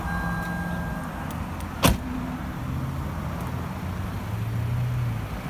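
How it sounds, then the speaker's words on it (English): A 2001 Toyota Camry engine is started with a Viper 5806v remote start. A brief sharp crank is followed by a steady, even idle rumble close by. "Cranks the engine."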